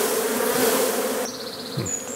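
Honey bees buzz steadily and densely at a WBC beehive during a swarm, a loud continuous drone that thins slightly partway through with a few individual bees passing close.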